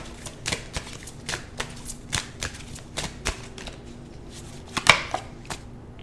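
A tarot deck, the Twin Flame Hunger Vampire Edition by Fire Witch Tarot, is shuffled by hand in a series of crisp, rhythmic riffling ticks that sound close and fairly quiet, with no voice over them.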